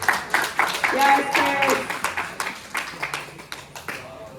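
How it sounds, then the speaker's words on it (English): Audience clapping for a volunteer named Chris at a church sermon, a burst of scattered hand claps that thins out, with someone speaking over it. "Can we clap for Chris?"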